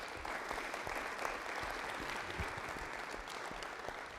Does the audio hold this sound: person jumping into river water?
no